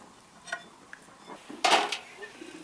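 A lid is set down on a pot of steaming grass-carp fillets in a home kitchen, giving one loud metallic clatter with a brief rattle, preceded by a few faint clinks of cookware.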